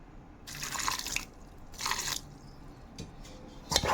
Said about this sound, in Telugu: పిండి గట్టిగా ఉంది కదా, ఇంకొంచెం నీళ్ళు పోసుకుందాం మనము.